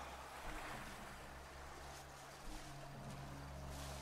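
Ocean waves wash and surge in a soft, continuous swell with a low, airy rumble of moving water, faint and distant, with no voices over it.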